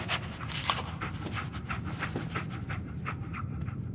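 Dogmeat, the dog companion in Fallout 4, pants quickly and steadily close by, a rhythmic run of short breathy huffs lasting a few seconds with no talk.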